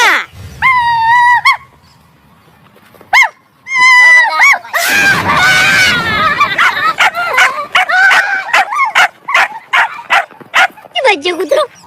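A cartoon dog barks and yelps in a rapid series of sharp, loud bursts, with whining cries and a screaming voice mixed between the barks.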